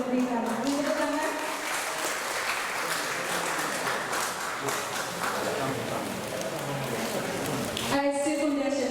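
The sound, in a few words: audience applause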